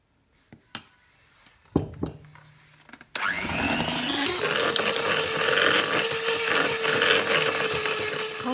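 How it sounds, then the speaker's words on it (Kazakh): After a few scattered clinks and knocks, an electric hand mixer switches on and whirs loudly and steadily while beating shortbread dough with flour. "тағы да миксерлейміз"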